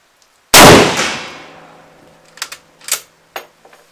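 A single loud, close Mosin-Nagant M38 rifle shot cracks and rings out with a long decaying tail, followed by a few sharp metallic clicks and clacks like the bolt being worked.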